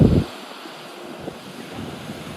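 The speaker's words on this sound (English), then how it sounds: "the waves are really rough really windy" Rough surf and gusty wind buffeting the microphone on a beach where a large yacht has washed ashore, with a loud rumbling burst at the start and steady wave noise after.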